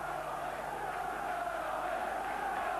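A near-full-house football crowd at Sunderland versus Middlesbrough in 1992 keeps up a steady, distant roar throughout, with no distinct chants or cheers standing out.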